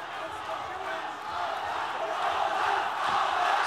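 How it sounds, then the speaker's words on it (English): A stadium crowd roars continuously at a mixed martial arts bout, its cheering building slightly and staying dense and distant, with a commentator's voice heard over it. "Crowd making rapturous noise here at the Tuana Stadium."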